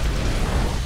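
A dragon's fire attack from the monster Rathalos in the video game Monster Hunter World, heard as a brief, loud, dense roaring burst that fills the whole moment without a break.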